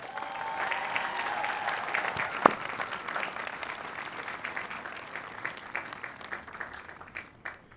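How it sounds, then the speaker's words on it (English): Applause from the crowd at the Moravian University 2023 commencement ceremony, a broad and sustained clapping from a large audience, moderately loud and steady, with a single sharp knock partway through. "Can we all give them a round of applause?"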